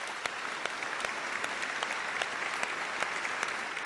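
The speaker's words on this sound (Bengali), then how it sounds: "জোরে হাততালি" An audience at a game-show round gives dense, steady applause, many hands clapping evenly throughout at moderate loudness with no voices.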